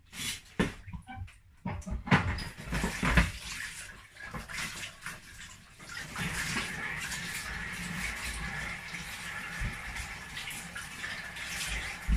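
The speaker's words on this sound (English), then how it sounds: "I'm going to wash my green plantain" Green plantains washed under a running tap, with a steady close stream of water splashing over them after some handling noises and knocks at the start.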